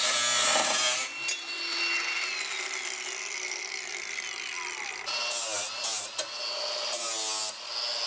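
An angle grinder cuts metal under a car's brake line, a loud, close whine that starts with a rough bite, holds a steady pitch, then breaks into uneven, stuttering passes toward the end.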